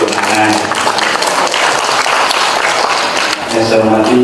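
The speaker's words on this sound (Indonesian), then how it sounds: "Boleh tepuk tangan" Seminar audience in a tax conference hall breaking into loud sustained applause, dense clapping filling the room, with a speaker's voice rising over it near the end.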